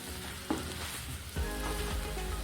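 Pumpkin pieces frying in ghee for halwa, a steady sizzle with a couple of stirring scrapes in the pan, close and continuous with no talking.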